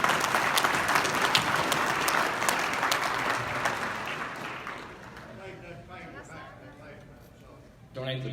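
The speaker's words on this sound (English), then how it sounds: "let's give our auctioneers one more round of applause" Banquet audience at a cattlemen's convention applauding auctioneers, a dense, steady wash of clapping that gradually thins and fades over several seconds before a voice starts speaking at the end.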